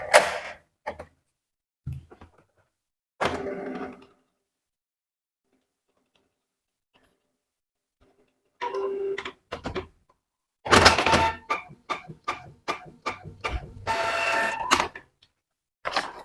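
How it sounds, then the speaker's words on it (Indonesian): A Canon IP2770 inkjet printer prints a test page after a cartridge repair, with its mechanism whirring and clunking in separate bursts between silent pauses, then running in a busier series of rapid ticks and feeds. "Di sini printer akan melakukan print out dengan hasil di mana nanti akan menunjukkan hasil dari cartridge yang berada pada printer Canon"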